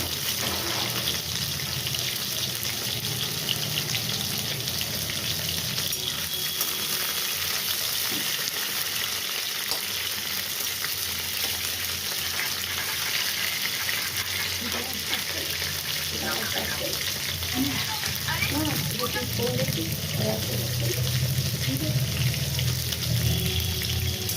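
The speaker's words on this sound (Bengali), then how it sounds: "পটলটি হালকা করে ভেজে নেব। পটলটা আমি ভাজছি।" Pointed gourd (potol) pieces frying in a pan for potol chingri, a loud, unbroken sizzle and spatter lasting throughout, with occasional stirring and faint background voices.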